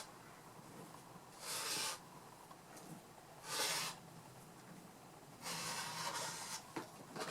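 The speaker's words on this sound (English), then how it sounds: "I'm going to trim off the uneven edge using a spider crawl to get my hand down the ruler." Fabric is trimmed along a ruler to remove an uneven edge, heard as three distinct bursts of close, hissing, scraping cutting strokes separated by quiet pauses.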